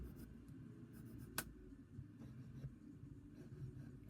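A pen drawing around a template on paper, faint scratchy strokes with soft scraping and an occasional sharp tap, close and quiet.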